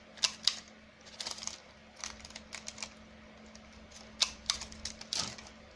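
Scissors snip the corners off a sheet of baking paper while making a simple card: a series of short, crisp cutting clicks at an uneven pace, close and fairly quiet.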